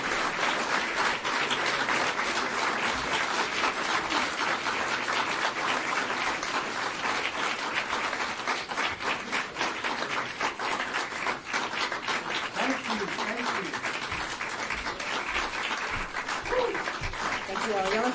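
Sustained audience applause fills a recovery meeting hall, dense steady clapping throughout with scattered cheers and faint voices mixed in.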